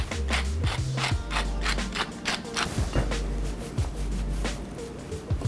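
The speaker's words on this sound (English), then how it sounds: "Fresh cracked black pepper." A pepper mill grinds fresh cracked black pepper up close. Repeated ratcheting, crunching turns come in an uneven rhythm, with short pauses between twists.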